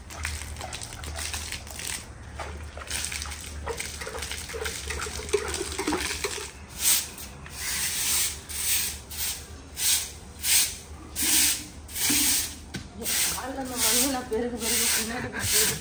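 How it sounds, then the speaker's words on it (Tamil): Water is splashed by hand onto a doorstep in a series of rhythmic swishing hisses, each throw landing in a regular beat that grows stronger toward the end, with a voice speaking at times. "ஃபர்ஸ்ட் வேலையே வாசல்ல தண்ணி தெளிச்சு கோலம் போட்டுடலாம்."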